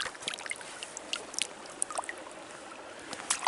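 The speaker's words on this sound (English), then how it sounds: "Let's go dip that in the water." A stone being dipped into creek water at Pope Creek, California gives faint splashes and small watery clinks over a soft, steady stream trickle outdoors.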